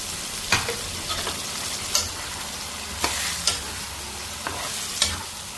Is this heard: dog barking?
no